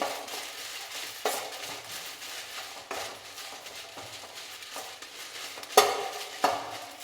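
Chillies roast in a dry pan for a mango pickle, with soft sizzling under several sharp scraping stirs of a spoon against the pan, spaced a second or two apart.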